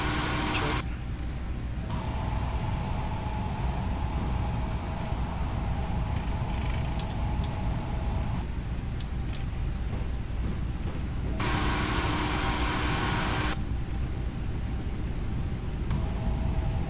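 An airliner's engines spool up to takeoff thrust for a Toronto to London departure in the Prepar3D v4 flight simulator, a steady loud roar and rumble that holds throughout while pilots exchange callouts over it.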